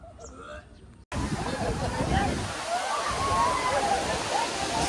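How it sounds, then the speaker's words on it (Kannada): Didaga Falls in Bagalkot pouring down in a steady, broad roar of falling water, loud and close after a brief quieter moment with a voice at the very start. "ಮ್ಯಾಲಿಂತ ನೀರು ಹರಿ ನೋಡಿರಿ"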